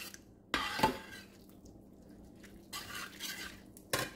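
Utensil stirring ingredients in a bowl for a homemade spaghetti sauce, with a few sharp scraping and clinking bursts separated by quieter stretches, close and fairly loud.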